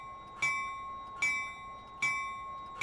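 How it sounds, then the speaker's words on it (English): A bell mounted under the deck ahead of the tandems on a 2020 Peterbilt 389 truck rings four times in an even rhythm, each bright metallic clang sharp and clear and ringing on briefly before the next strike. "The bell's mounted under the deck ahead of the tandems"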